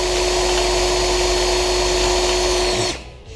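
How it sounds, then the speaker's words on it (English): A power drill bores out the rivets on a GM seat rail from an OBS Chevy truck, whining loud and steady at close range for about three seconds before spinning down and stopping. "So, really looking to only go down to about the rivet depth. We don't need to drill too much further."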